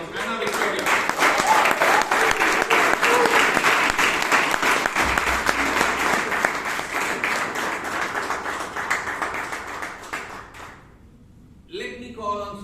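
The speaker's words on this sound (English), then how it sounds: "Please welcome on stage with a big round of applause, Anna Victoria." Sustained applause from a Toastmasters club audience in Bangalore as a speaker is welcomed on stage, dense steady clapping for about ten seconds before fading out, followed by a brief moment of talk.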